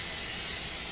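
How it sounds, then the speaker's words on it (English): A short, steady hiss of aerosol cooking spray onto a pan, continuous and fairly close for under a second with no other sounds. "we're going to spray the pan with a little cooking spray"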